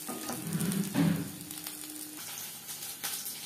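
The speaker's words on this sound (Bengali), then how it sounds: "প্রত্যেক ব্যাচের পাকোড়া একইভাবে ভেজে নেব" Prawn and vegetable pakoras fry in hot oil, giving a steady, close sizzle and crackle that runs the whole time. Brief bubbling bursts rise above it, and there is no speech.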